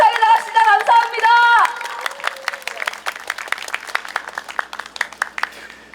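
A crowd applauds at a railway union rally of electrical workers. A sung or spoken voice comes first, then a steady patter of many hands clapping that slowly thins out.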